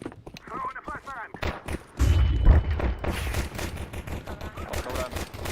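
A flashbang grenade is thrown in Counter-Strike 2, landing with a heavy thudding burst and ringing blast that follows a player's voice, with game noise and talking continuing after.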